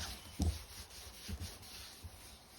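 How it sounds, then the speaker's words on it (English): Cloth rubbing degreaser into a leather Cosworth steering wheel during refurbishment: a few soft, close scrubbing strokes with faint brushing friction, quiet and alone. "So I'm putting a bit on a cloth now, just try and get all the muck out of it, all the oils."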